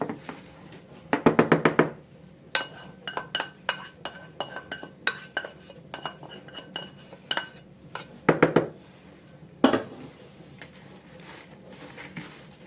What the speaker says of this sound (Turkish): İyice ıspanakla yumurtalar birbirine karışsın.